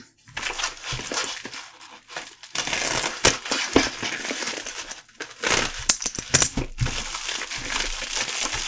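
A small padded bubble mailer from AliExpress, holding a Samsung Watch 7 clone, is crinkled and torn open up close, with irregular bursts of rustling and crackling plastic and brief pauses.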